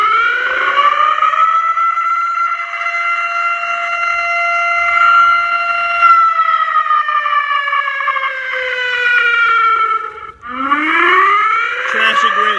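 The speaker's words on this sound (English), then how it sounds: "It's kind of a iffy recording of a tornado siren." A tornado siren recording played through a Powercall USB6100 100-watt amplifier, a loud sustained wailing tone that holds steady, slowly falls, then rises again after a brief break.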